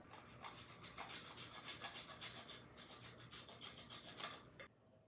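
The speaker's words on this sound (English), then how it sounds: "I am going to grate it on top of my cake" A small Kit Kat bar is grated over the top of a Halloween fall cake, giving close, steady rhythmic rasping strokes that run for about four and a half seconds and then stop.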